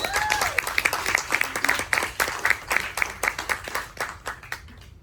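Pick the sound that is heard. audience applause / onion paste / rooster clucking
audience applause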